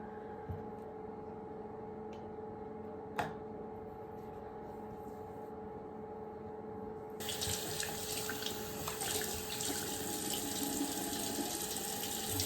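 Tap water runs into a bathroom sink during face washing, a steady faint rush that swells louder and brighter partway through as the flow increases, with no talking.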